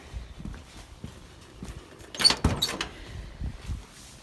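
A real Volkswagen Beetle door is opened: a burst of metallic latch clicks and a door swing around the middle, with faint handling noises and shuffling before and after.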